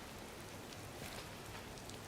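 Steady soft rain patters continuously in Disney Dreamlight Valley, a faint even wash of falling drops with no break or other sounds over it.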